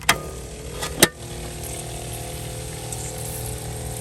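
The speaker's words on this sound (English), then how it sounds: "You hear it? It's a pump." A steady low mechanical hum of a small solar-powered drip irrigation water pump running continuously, with water trickling and two sharp clicks near the start.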